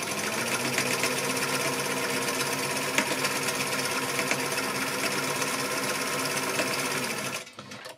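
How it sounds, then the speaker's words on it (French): A sewing machine runs steadily at high speed, stitching a straight seam on fabric for a phone holder, a continuous dense whirring rattle close by that stops abruptly near the end. "Couture droite à 5 cm du bord."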